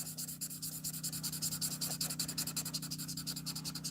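Spectrum Noir alcohol marker nib colouring on paper, a steady close-up rhythm of soft scratchy strokes rubbing back and forth over a constant low hum, with no voices.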